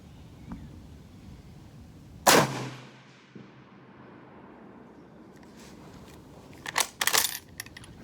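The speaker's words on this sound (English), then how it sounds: "Okay, shot number 1 is downrange." A single sharp, loud rifle shot from an M38 6.5x55 Swedish Mauser at a military rifle match outdoors, with a ringing decay and a few faint mechanical clicks afterward.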